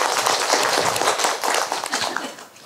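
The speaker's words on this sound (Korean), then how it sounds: "여러분 박수 부탁드릴게요" Audience in a hall at a Buddhist monk's talk breaks into brisk applause, a dense burst of clapping that stays loud and fades toward the end.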